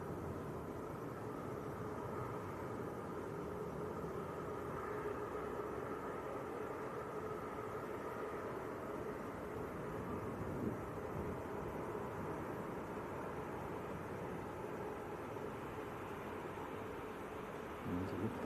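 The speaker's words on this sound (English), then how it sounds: "we've got an A330 coming in. Ooh, very nice. Jet2 A330." A Jet2 Airbus A330 airliner on approach to land at Manchester Airport gives a steady, distant roar that holds throughout, with faint talk in the background.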